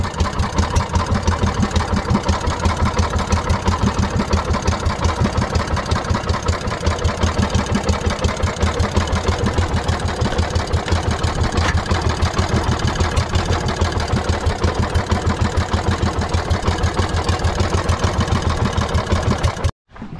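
A freshly repaired engine idles steadily with a fast, even chugging pulse, loud and close, running unchanged for about twenty seconds before cutting off abruptly.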